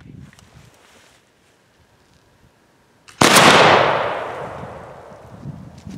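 A smoothbore muzzleloader loaded with 60 grains of powder and a double ball fires once outdoors, a single loud, sharp blast following quiet rustling and then rolling into a long fading echo.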